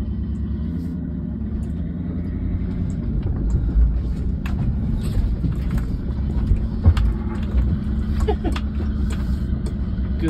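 A Honda CR-V being towed out by another vehicle gives off a steady low engine rumble that runs the whole time at fairly high level, with a few scattered clunks and knocks over it.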